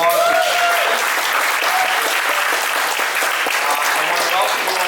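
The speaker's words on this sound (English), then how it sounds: "One more round of applause." Loud, dense audience applause at a climate conversation with a U.S. senator in a coffee cafe, continuous and steady throughout with a faint crowd murmur underneath.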